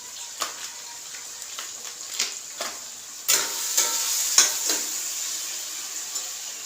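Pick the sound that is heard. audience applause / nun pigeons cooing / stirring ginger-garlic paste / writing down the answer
stirring ginger-garlic paste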